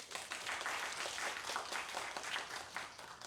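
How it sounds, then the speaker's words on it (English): Applause from the audience at a university lecture on teaching efficiency, steady scattered clapping heard fairly faintly for a few seconds. "let's just give Ramon a round of applause"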